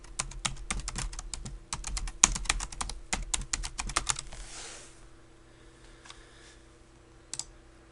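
Rapid keystrokes clatter on a computer keyboard during a login to an Oracle database, a dense burst of close clicks that thins out into a few scattered taps and a final key press.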